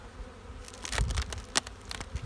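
Honeybees at a hive during an early spring inspection, a soft continuous buzz with scattered louder passes of individual bees close by, no voices.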